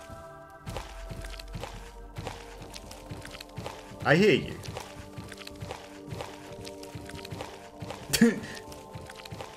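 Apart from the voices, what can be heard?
heavy footsteps of a zombie in a horror video game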